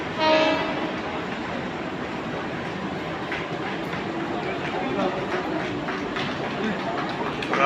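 A train idles and rumbles at a station in Maharashtra, stopping about five minutes, with a continuous low mechanical drone and faint background bustle throughout.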